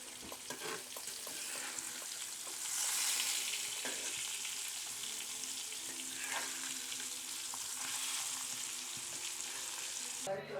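Freshly caught fish fries in a pan with a steady, close hiss and sizzle that swells slightly and continues evenly throughout, with occasional light stirring sounds.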